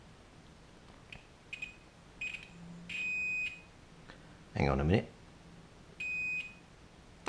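Several short, high electronic beeps from a multimeter continuity tester sound one after another at irregular intervals as radio wires are tested, with a voice speaking briefly between them.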